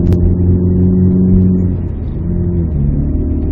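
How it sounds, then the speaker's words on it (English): Straight-piped, naturally aspirated Chrysler PT Cruiser four-cylinder exhaust revving, a loud close droning rumble that holds steady, dips briefly, then rises again, with no talk. "a straight piped NA PT Cruiser would sound just as bad as any other 4-cylinder with a rice pipe on it"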